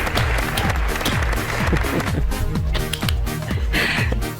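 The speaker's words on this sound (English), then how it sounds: "Clapping in the background." Studio audience clapping on a game show, a steady round of many hands with low rumbling noise beneath it.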